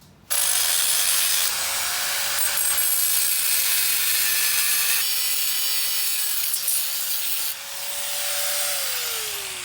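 A power cutting tool slices through a headlight mounting bracket during a 1JZ-swapped Nissan 240SX Silvia headlight build, giving a loud, steady, continuous whining cut with a slowly shifting pitch for about nine seconds.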